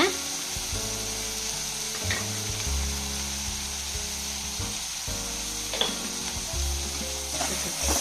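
Sliced onions fry with chili powder in a pan, sizzling loudly and steadily while a utensil stirs and scrapes. Periodic low knocks come through, recorded close up and without talking.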